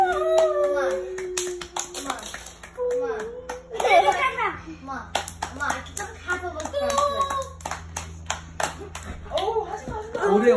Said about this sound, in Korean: 오래 박수 치네.